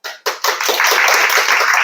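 Audience clapping at a life insurance sales training lecture, starting with a few separate claps and quickly swelling into dense, close, lively applause that holds steady to the end.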